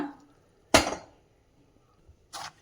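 A cooking pot is set down on a gas stove with a sharp metallic clank, followed by fading rattles and then a second clink of metal as water is added to cook drumsticks, with quiet gaps between.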